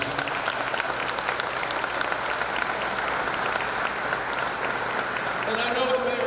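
An audience applauds the mayor of Garfield at a political endorsement event, a dense, steady wash of clapping throughout with a voice rising near the end.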